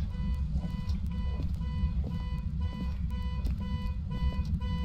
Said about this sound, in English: now we can click on the car and it shuts the alarm off